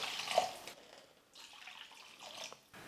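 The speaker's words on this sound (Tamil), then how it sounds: "தண்ணி சேர்த்துக்க போகிறேன்" Water poured into a pan while making egg Maggi noodles, a faint splashing, trickling stream in short bursts, quiet and close with no talking.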